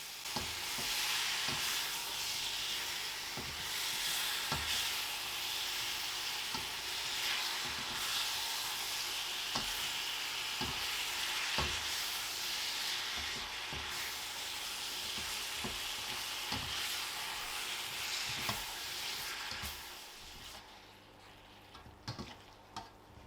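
Sweet aromatic beef, a Chinese takeaway dish, fries and sizzles in a pan with a steady hiss and periodic stirring clacks, the sizzle fading away near the end.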